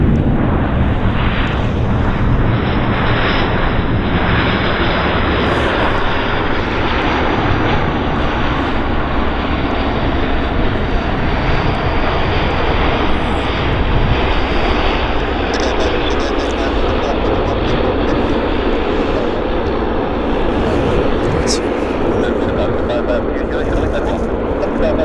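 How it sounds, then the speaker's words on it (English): A Q400 turboprop airliner coming in to land at Vancouver YVR airport, a loud, steady propeller and engine roar that holds throughout, with people talking over it. "the Q400, which is just about ready to land right there"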